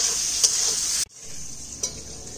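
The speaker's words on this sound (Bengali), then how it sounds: "বেগুনটা ভাজা হয়ে গেছে," Eggplant slices frying in a pan with turmeric and salt, a steady close hiss of oil broken by a short pause, with faint stirring ticks and no talk.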